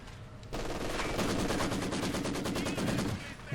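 Maxim machine guns in a strategy video game open up in a steady, rapid rhythmic rattle, dense and continuous for about three seconds after a quieter lead-in.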